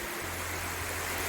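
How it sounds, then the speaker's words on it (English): A small waterfall flows nearby at a gorge spot in Karijini, giving a steady, broad rush of falling water with a low hum underneath, continuous and fairly close throughout. "there's a little waterfall just off the edge here"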